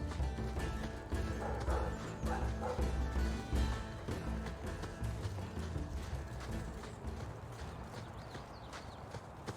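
A dog in the video game Dragon Age 2 barks and yips repeatedly over hoof-like clopping and game ambience, fairly close and moderately loud.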